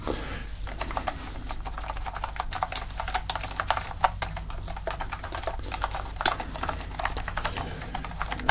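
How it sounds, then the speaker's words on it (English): Steady, rapid typing on a computer keyboard, a dense patter of key clicks continuing throughout at close range with no speech. "just keep typing up everything here in your notes"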